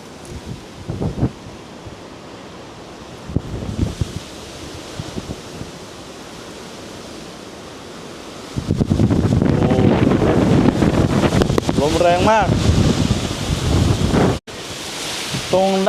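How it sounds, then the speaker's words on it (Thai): Strong wind buffets a microphone at a 360-degree mountain viewpoint in Prachuap Khiri Khan, starting as low rumbling gusts, then roaring loudly midway while someone talks over it. "จะได้ยินเสียงลมแรงมากครับ"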